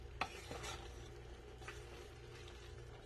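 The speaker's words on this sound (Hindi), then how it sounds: "ये भी डाल देना है, तो ये हमने सारे मिक्स कर देना है" A spoon stirs peas into rice in a cooking pot, giving a few soft scraping and clinking strokes over a faint sizzle, quiet and close, with no voices.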